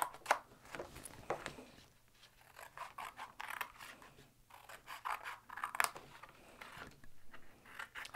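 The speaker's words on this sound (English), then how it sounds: "you're going to cut thin slivers to either side of your scoring line" Scissors snipping thin slivers from a card panel, close and quiet, with irregular crisp cuts and light scraping of paper between them.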